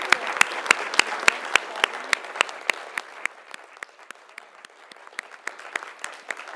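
Conference audience applauding past award winners as they stand, a rhythmic run of distinct, fairly close claps that begins loud and thins to a sparser, quieter patter.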